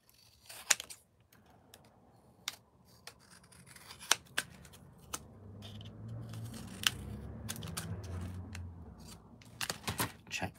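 Scissors snip several times, crisp and close, trimming a hexagon light card by hand, short separate cuts spread unevenly over quiet surroundings with faint rustling of paper.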